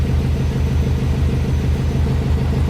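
A Subaru WRX engine idles steadily after a PCV valve replacement, a continuous low rumble with an even, throbbing pulse and no voices.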